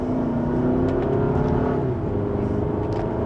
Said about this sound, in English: And just a minor acceleration up to speed.